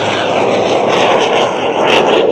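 Fabric and wood biplane with a combined 2,000 horsepower roaring past at the EAA AirVenture Oshkosh air show, a loud, continuous engine drone with a harsh, rasping edge.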